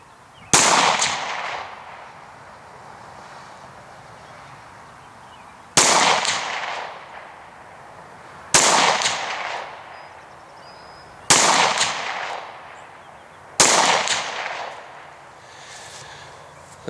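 Five shots from an FN Five-seveN pistol firing SS195 27-grain lead-free 5.7x28 ammunition at an outdoor range, each a sharp loud crack with a ringing decay, spaced several seconds apart with no talk.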